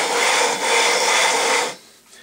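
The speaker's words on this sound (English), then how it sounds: "I rotate it around a little bit just to distribute the abrasive." A ceramic tile grinding tool, about 15 inches across, is rotated face down with abrasive on a 20-inch quartz telescope mirror. It makes a loud, close gritty rasp that pauses once briefly, then fades out.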